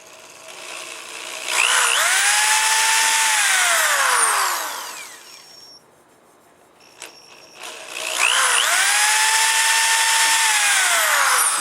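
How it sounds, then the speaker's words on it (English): A drill with a long bit spins up and bores steadily for a few seconds while assembling a Harley-Davidson tour pack, winds down, then after a short pause starts again and keeps drilling. "So by using a long drill, I avoid that."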